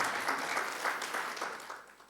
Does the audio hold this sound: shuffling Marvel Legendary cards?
no